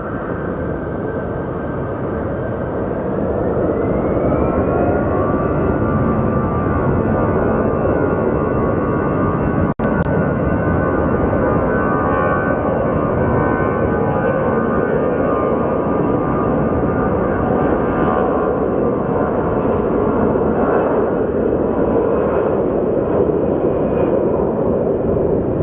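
A pilot training aircraft flies at Sky Harbor Airport, a loud continuous engine roar with a slowly shifting drone, sustained throughout at close-to-moderate distance.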